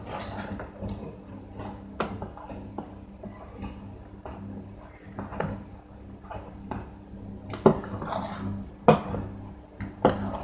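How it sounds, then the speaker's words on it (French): A croque-monsieur filling of ham, truffle and Saint-Nectaire cheese being stirred in a pan, with repeated light scrapes and metallic clinks of a utensil against the pan, irregular and close, quiet overall and with no talking. "On remue tout le temps pour que ça n'accroche pas trop."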